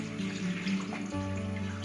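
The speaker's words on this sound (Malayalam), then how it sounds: "ഇനി നമുക്ക് ഈ വെള്ളം ഊറ്റി കളഞ്ഞിട്ട്" Cooking water is poured off a pot of boiled cassava, a steady, close pouring and splashing stream that runs without pause and without talk.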